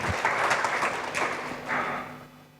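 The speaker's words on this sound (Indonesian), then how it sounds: "Berikan tepuk tangan meriah buat Tuhan kita." A church congregation at a service gives a brief burst of applause that rises quickly and then fades away over a couple of seconds.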